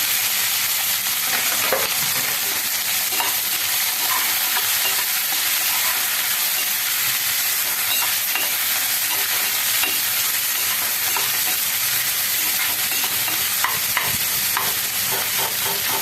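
Onions, three of them, frying in a pan for white pulao, with a loud continuous sizzle and frequent spoon scrapes from close by throughout, no voices.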